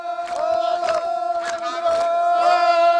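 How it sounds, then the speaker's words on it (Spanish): Crowd cheering Papuan tribesmen with feathers and spears at a traditional gathering: loud, sustained shouting and cries in repeated surges, voices blending into a pitched roar, close and lively. "La gente les aplaude y les anima."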